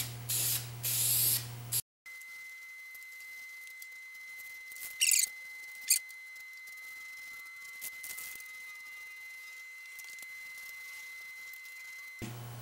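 Short bursts of spray paint hissing from an aerosol can, a loud opening spray that cuts off, then a few brief distant hisses and light tapping over a quiet background.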